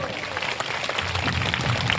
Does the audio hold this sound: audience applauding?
yes